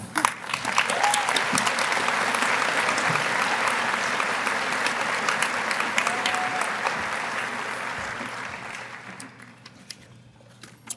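An audience at a public employees diversity conference applauds steadily to welcome a keynote speaker, a dense, even clapping that holds for about eight seconds before thinning out and fading near the end.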